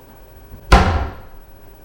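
A kitchen cabinet door slams shut once with a sharp, loud, close bang whose ring decays over about half a second in a quiet room.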